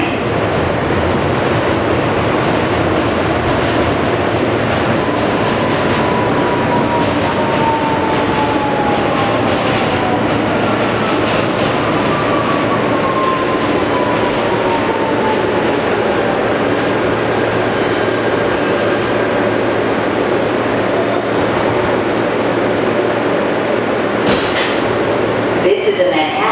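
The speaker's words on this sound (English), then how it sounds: "This is a Manhattan-bound Q train." A Manhattan-bound NYC Subway R160B Q train rolls between stations, seen from inside the car: a steady loud rumble of wheels on track with rising and falling whines as it moves, and no break in the noise.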